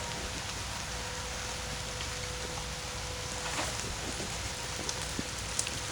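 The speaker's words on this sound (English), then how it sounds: "it's raining pretty good" Steady rain pours down in a dense, even hiss, with a few sharper drips and taps near the end.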